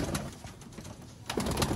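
Sialkoti pigeons of a pure breeder line coo close by, soft repeated throaty calls over a steady background hiss.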